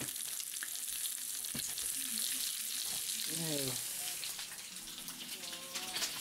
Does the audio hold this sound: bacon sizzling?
yes